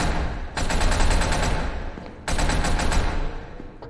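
Loud bursts of gunfire in the video game SCP: Secret Laboratory, two sustained rapid-fire volleys separated by a brief pause, close and dominant.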